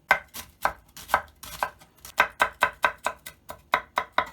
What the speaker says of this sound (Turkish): Yemekte kullanacağımız kuru soğanımızı her zaman olduğu gibi yemeklik tabir edilen şekilde doğrayalım